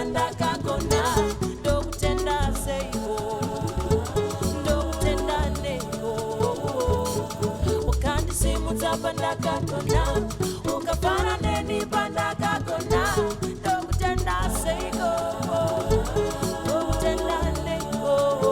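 A finished Zimbabwean groove song reworked from an R&B track plays continuously, with layered vocal harmonies, lead guitar lines and a steady, busy rhythm section at moderate level.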